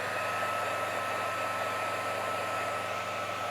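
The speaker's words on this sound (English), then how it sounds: "And dry it again." A hair dryer blows steadily on laser-engraved glass, a constant close whooshing roar with no pauses and no talk.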